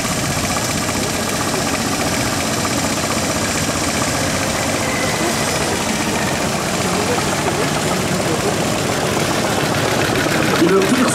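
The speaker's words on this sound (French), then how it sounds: "Elle est propulsée par un moteur qui fait à peu près 1300 ou 1500 cm3." A 1902 Pierce vintage American car with an engine of roughly 1300 to 1500 cc runs steadily at a rally of old cars, a loud continuous chugging drone that holds throughout.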